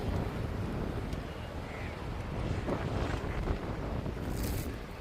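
Wind buffets the microphone on a seashore with sea on both sides, a steady loud rushing roar with surf-like wash underneath, constant throughout with no pauses, no talk.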